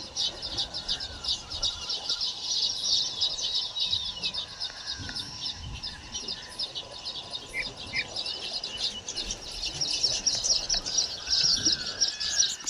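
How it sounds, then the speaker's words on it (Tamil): House sparrows chirping in a dense, continuous chorus beside a farm with a palm tree, where they come for small grains; many overlapping bright tweets, fairly close, with no talk. "எங்கள் ஊரில் இது பேர் சிட்டு குருவின்னு சொல்லுவாங்க"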